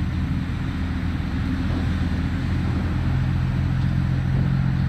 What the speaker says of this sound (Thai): ตัวนี้เป็นตัวโคมัสสุนะครับรถขุดสีเหลืองค่ายโคมัสสุ